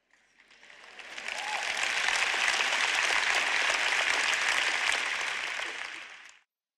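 A congregation applauding at a sermon, dense clapping that swells in from quiet, holds full and even for several seconds, then cuts off sharply.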